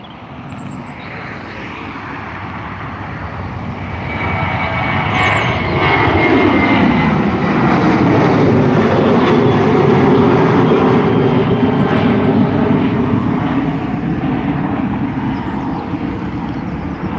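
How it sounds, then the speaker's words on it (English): A Boeing 737-800 in blue livery, registration GFDZZ, passes at Dublin Airport as flight BY1762 bound for Turin, its loud steady jet roar swelling after a few seconds and holding strong throughout. "That was TY flight BY1762, a Boeing 737-800 registered as GFDZZ, heading over to Turin"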